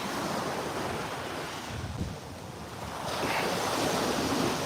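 Ocean waves wash onto a beach in a continuous loud roar of surf, swelling again toward the end, with wind buffeting the microphone and no voices.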